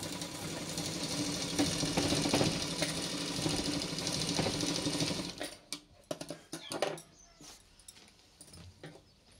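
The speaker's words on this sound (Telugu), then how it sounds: "అటు ఇటు జరగకుండా ఇట్లా కుట్టేసుకోవాలి." A sewing machine stitches the underarm seams of a silk pattu langa jacket, running in a steady loud whir for about five seconds before stopping, followed by a few short clicks and handling knocks.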